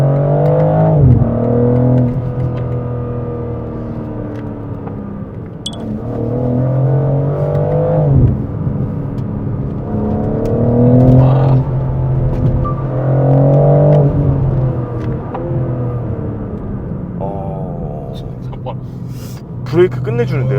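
A 2025 BMW M4 CS engine pulls hard while driving, with loud rising revs that climb and drop through several gear changes and a deep rumble beneath, while people talk in the cabin.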